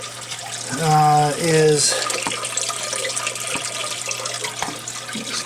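Water drains through a DIY aquarium double overflow with no bio balls or media yet, gurgling and trickling into the sump below as a steady close wash, with a brief louder tonal burst near the start and a voice speaking briefly.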